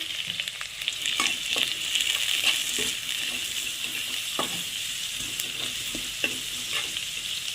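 Ginger garlic chili paste fries with onion and curry leaves in hot oil, a loud, steady sizzle broken by scraping stirs at irregular intervals, close up with no voices.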